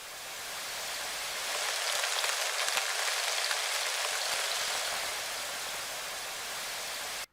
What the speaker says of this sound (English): So now it's starting to sound more like rain.